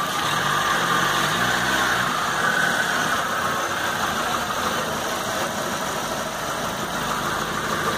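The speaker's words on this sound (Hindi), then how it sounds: "देख सकते हैं गाड़ी का साउंड" A Hyundai Accent engine idles after a cylinder head overhaul, running with a steady, even mechanical clatter and whir that stays close and constant without misses or jerks.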